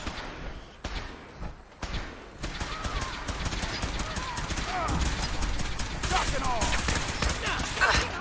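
Gunners firing laser shotguns in Fallout 4, with dense, crackling bursts of fire building to a steady, busy barrage over background game noise.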